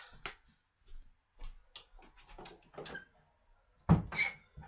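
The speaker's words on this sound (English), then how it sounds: "I'm just going to actually shut the door, boys and girls." A door being shut indoors, heard as a few scattered soft knocks, clicks and handling noises ending in a louder close thump followed by a brief rattle, with no talk over it.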